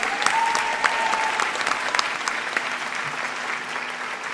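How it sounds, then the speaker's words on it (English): Sustained applause from an audience at a Bharatanatyam dance arangetram, following Meghana's performance; dense steady clapping fills the hall throughout, loud and even with no voices over it. "A big round of applause for Meghana"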